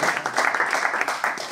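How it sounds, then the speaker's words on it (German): A short burst of audience applause for the athletics head at a local charity run, brisk clapping at moderate loudness. "Dicken Applaus für Markus."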